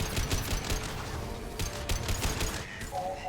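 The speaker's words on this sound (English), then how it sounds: "Firing concussive shots!" Dense, continuous barrage of concussive gunfire in the video game Mass Effect 2, rapid overlapping blasts filling the scene without pause.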